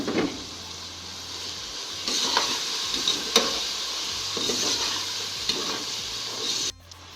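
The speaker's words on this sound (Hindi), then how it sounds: "सारी सब्जियों को फ्राई कर लें।" Chicken, peas and carrots frying in a pan for Chinese-style fried rice give a steady sizzle, with a few stirring scrapes, and then the sound cuts out near the end.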